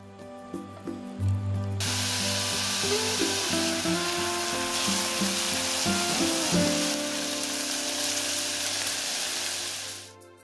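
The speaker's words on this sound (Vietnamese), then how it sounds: "cho 1 muỗng canh hành tỏi băm vào phi thơm" Loud, steady sizzling of minced garlic and shallot frying in a tablespoon of hot oil in a pot, a bright crackling hiss that starts abruptly and fades out near the end, with no talk.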